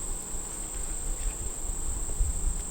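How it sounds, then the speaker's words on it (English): Honeybees swarming around a hive top to reach sugar syrup, a steady close buzzing hum with soft handling noises underneath, no voices. "Lots and lots of bees up here"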